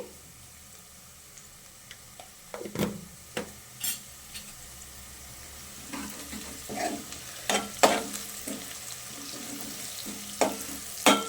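A spoon stirs turmeric into golden fried onions in a hot pan for aloo curry, giving scattered scraping clinks and bumps over a soft continuous sizzle, close and moderately loud.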